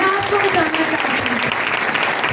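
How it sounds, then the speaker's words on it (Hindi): Audience applause during a church sermon, a steady wash of clapping sustained throughout, with a preacher's voice and musical tones faintly underneath. "जोरदार तालियां हम जाए अपने खुदा को"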